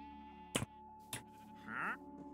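Sheep in the Minecraft video game bleat in short, clear calls. One comes near the start, another a beat later, and a longer, wavering bleat follows, all fairly quiet over a soft background tone.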